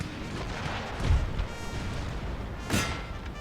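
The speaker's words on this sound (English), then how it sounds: "Cannonballs are still bouncing in the middle of all this." Cannon fire in Napoleon Total War, with cannonballs bouncing across a crowded battlefield: two dull, booming thuds about a second and a half apart rise over a steady, dense din of distant battle noise.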